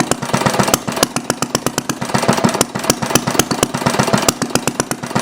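A Briggs & Stratton engine fitted with a glass cylinder head runs close by, a loud, rapid, regular chugging of firing pulses that speeds up and slows back toward idle.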